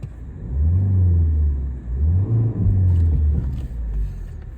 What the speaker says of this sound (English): Revs really nicely.